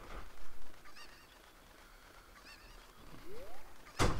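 In Ocarina of Time, a cucco chicken gives several honking squawks in short bursts, moderately loud, over quiet game ambience, with a sharp crackly hit at the end.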